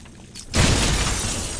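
A glass wall in Batman Arkham Asylum bursts apart with a loud, close shatter, a sudden crash followed by a sustained spray of breaking shards.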